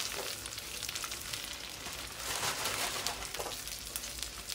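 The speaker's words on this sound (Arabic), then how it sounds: "بنضيف عليهم البطاطا اللي قليناهم. انا تقريبا حطيت بطاطتين تقريبا، ونحركهم مع الثومات" Potatoes, already fried, sizzle steadily as they are stirred with garlic in a pan, a continuous close crackle with brief scraping swells and no voices.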